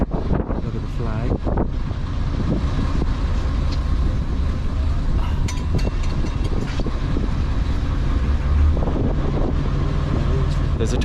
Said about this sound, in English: There's a tough wind coming off the Thames